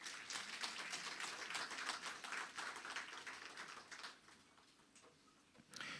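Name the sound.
audience applause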